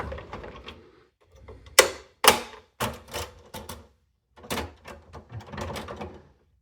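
Rear hatch of a 1997 1/6 scale SWAT toy vehicle clicking, a series of sharp plastic clicks and snaps in uneven bursts, close and distinct.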